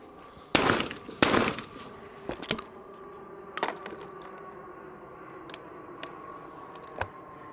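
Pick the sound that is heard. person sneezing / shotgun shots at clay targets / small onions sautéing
shotgun shots at clay targets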